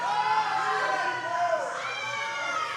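A powerlifting competition crowd cheers and shouts loudly and steadily throughout, a dense wash of voices rising around a lift.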